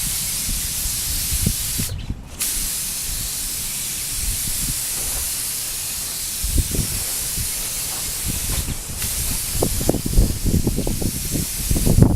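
Rust-Oleum clear coat sprayed from a can in a light tack coat, a loud steady hiss that pauses briefly a couple of times, with low thumps and knocks building near the end.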